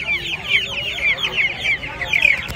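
Australian-breed chicken chicks at a poultry and pet market peep and cluck in quick repeated high calls, close and fairly loud, with faint market background.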